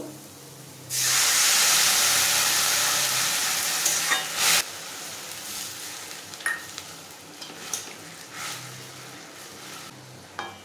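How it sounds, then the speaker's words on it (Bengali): Papaya frying in a pan for papaya chutney, a loud sudden sizzle and hiss that fades gradually, with scattered stirring clinks and scrapes. "পেঁপেটা হালকা ভেজে নেব, যাতে পেঁপের মধ্যে যে গন্ধ থাকে একটা, সেটা চলে যায়"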